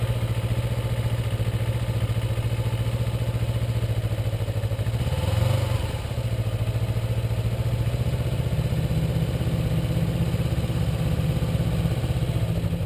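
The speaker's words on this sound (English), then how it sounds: "you start to hear the RPMs kind of die out a little bit" A Kawasaki Ninja motorcycle engine idles at low RPM with a steady, close, low rumble that dips briefly midway, as if easing off, then settles back to an even idle.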